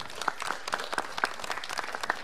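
An audience applauds a finalist at a mixed billiards final, brief steady clapping from a modest indoor crowd, fairly faint, with no voices.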